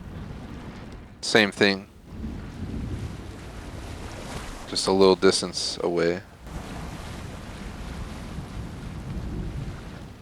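A boat gliding along the river Styx in the video game Assassin's Creed Odyssey, with steady wind and water wash throughout; a person talks briefly twice over it.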